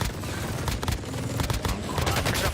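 Rapid automatic gunfire from a hip-fired weapon in a first-person shooter video game, a dense continuous stream of shots with occasional booms, loud and close throughout without speech.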